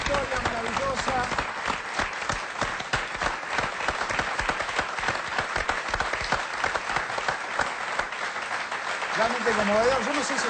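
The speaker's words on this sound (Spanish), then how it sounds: "Un gran aplauso para esta historia maravillosa" Sustained studio audience applause from a large crowd on an Argentine television program, dense and steady throughout, with a voice briefly speaking over it near the end.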